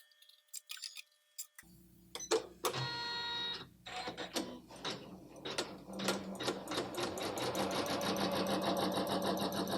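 A Janome Memorycraft CNC sewing machine embroidering a design, starting after a few sparse clicks and then settling into a loud, rapid, steady mechanical stitching rhythm up close.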